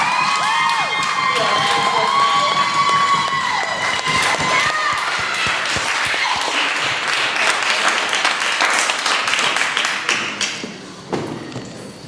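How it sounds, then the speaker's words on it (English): A crowd at a public hearing claps and snaps, loud and sustained for about ten seconds, with scattered cheering and voices mixed in before the noise tapers off. "So people are clapping and snapping and prolonging everything because we need you to hear us."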